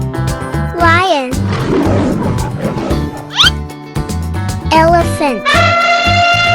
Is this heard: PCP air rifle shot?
no